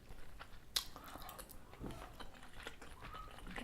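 Someone chews a mouthful of tofu scramble at breakfast, soft close crunches and squishy bites repeating in a loose rhythm with one sharp click early on, quiet and without talk.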